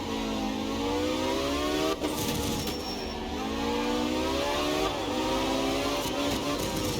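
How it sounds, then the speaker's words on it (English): A rally car engine in the racing game Art of Rally revs and shifts up through rising tones, with sharp anti-lag pops and bangs cracking out at intervals, loud and close. "So the numerous pops you hear on these cars is what's called an anti-lag system."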